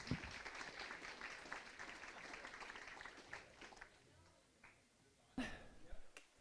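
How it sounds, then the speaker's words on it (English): Applause from an audience at a talk, moderate and fairly close, with scattered clapping that thins out midway before a short burst of louder claps near the end; a little background chatter is mixed in. "So everyone, please give a round of applause to Albert."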